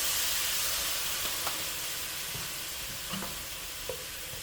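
Cooking wine splashed into a hot pan to deglaze it for chicken and dumplings, giving a steady broadband sizzle and hiss with a few faint stirring clinks, close and continuous.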